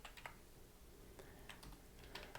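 Typing on a computer keyboard, a quiet run of soft, uneven key taps in short clusters with gaps between them, fairly faint, with no voice.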